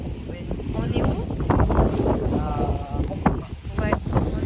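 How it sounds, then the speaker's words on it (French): Seaside wind at Moncofa gusts hard against the microphone, a steady rumbling roar with fluctuating bursts while people talk briefly in the background. "Il y a du vent là."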